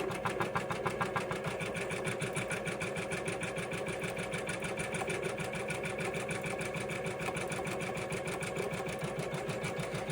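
An embroidery machine stitches an applique in its hoop with a rapid, even mechanical chatter that carries on steadily at moderate volume and stands alone without voices.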